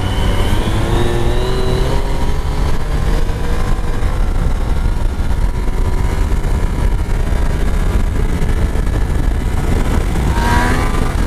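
Harley-Davidson Dyna motorcycle engine held at wide-open throttle during a wheelie attempt, a loud continuous roar with rising and falling revs and heavy wind rush throughout, close up with no talking.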